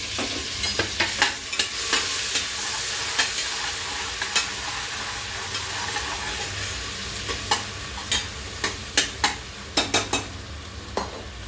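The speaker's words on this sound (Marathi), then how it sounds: "आपण यामध्ये घालणार आहोत कांदा" Chopped onion fries in a pan for keema while a spoon stirs it, giving a steady close sizzle with repeated scraping clicks and knocks of utensil on metal throughout, and no voices.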